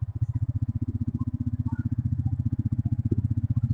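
A motorcycle engine idles nearby with a steady, rapid low thumping pulse that stays even and moderately loud throughout, with no other sounds over it.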